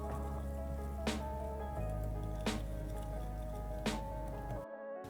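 Fish being mixed by hand with spices, malt vinegar and mustard oil, soft wet squishing and slapping under a steady background hum, with a few sharper squelches spaced a second or so apart.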